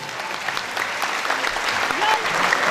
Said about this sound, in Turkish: Sayın İbrahim Yaman'a yine sizlerden özel bir alkış